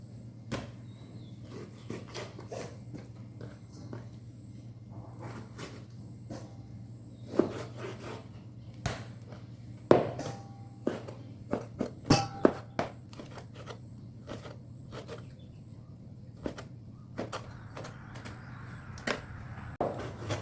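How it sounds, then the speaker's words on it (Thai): Repeated sharp taps and clicks of a knife slicing pork windpipe on a board, irregular and close, over a low steady hum. "หั่นหมูครับ"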